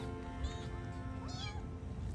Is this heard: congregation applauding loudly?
no